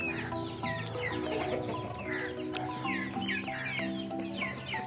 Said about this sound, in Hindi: आप मुर्गियाँ देखने चलें